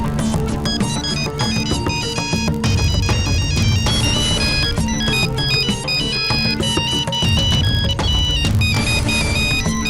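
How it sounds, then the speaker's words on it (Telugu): A phone rings loudly and continuously with a bright melodic ringtone that repeats its tune throughout, close and without talk. "సాకేత్ ఏ టైంలో ఫోన్ చేశాడేంటి?"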